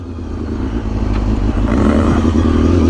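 A Honda CBR250RR motorcycle on a spirited ride makes a loud, close engine drone with a rising, buzzy tone, mixed with rushing wind.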